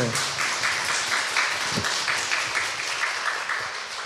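Audience applause for a company representative at a live public broadcast taping, dense clapping sustained throughout at moderate level, with a faint voice briefly underneath.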